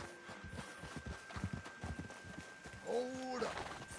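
Horse hooves clip-clop at a steady walking rhythm in the video game Red Dead Online, followed by a brief whinny near the end, moderately close with no speech over it.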